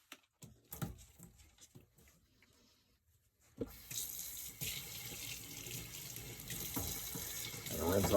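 A shoe-cleaning brush is rinsed under a running tap, water gushing steadily into a sink after a few quiet handling clicks, with splashing and patter as the brush moves through the stream.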